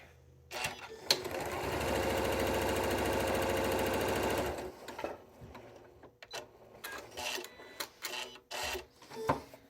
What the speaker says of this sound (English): I'm going to finish stitching a couple lines on here real quick